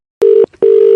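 Two loud, steady telephone beeps sound after a call is hung up. Each beep is a pure tone lasting about a quarter second, separated by a short gap, and the second beep runs on to the end.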